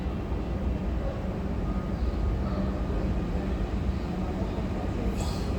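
A train at a station platform rumbles steadily and loudly at close range, its low mechanical drone continuous throughout, with no voices over it.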